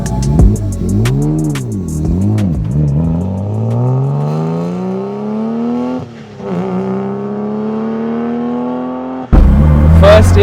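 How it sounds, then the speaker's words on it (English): A Nissan R34 GTR with a Hollinger sequential gearbox whines through its straight-cut gears as it accelerates and shifts, the loud rising gear whine and engine note climbing repeatedly, heard close from inside the car. "you can probably hear the straight cut gears on this Hollinger sequential gearbox"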